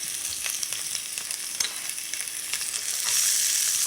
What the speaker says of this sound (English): we're just going to add these onions and we're just going to saute them off